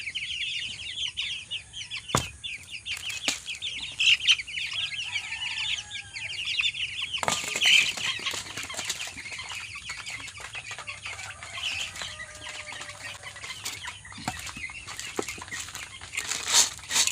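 Duckling chicks peep in a dense, continuous high chorus, with occasional soft fluttering bursts and thumps close by; no one speaks.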